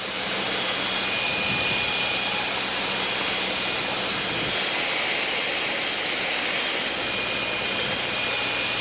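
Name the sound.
small airplane engine on final approach, power reduced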